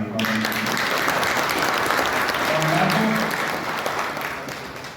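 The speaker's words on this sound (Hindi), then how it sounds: "मैं सभी से अनुरोध करूंगा कि जोरदार तालियां" Sustained, loud audience applause at a Republic Day celebration on 26 January by faculty and D.El.Ed trainees, with a brief voice near the start and faint tones mixed in, tapering slightly toward the end.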